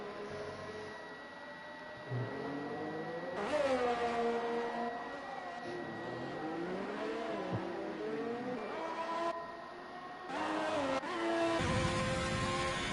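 Onboard Ferrari F1 car engine in a racing video game at Australia, a loud high-pitched whine climbing through upshifts and dropping on downshifts, with brief tyre squeal as the car brakes and accelerates.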